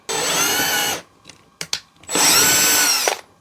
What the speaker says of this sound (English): I'm just going to take a drill bit and drill a hole in it